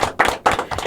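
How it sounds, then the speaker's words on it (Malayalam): A few sharp, close hand claps in an uneven rhythm, about three distinct hits within a second, loud and dry with no talk. "ഒരു കയ്യടി ശരിക്കും"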